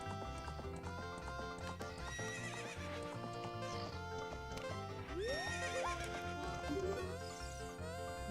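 A horse whinnies and its hooves clip-clop in a corral in the video game Ocarina of Time, over a constant bed of game music, with rising neigh sounds standing out in the middle.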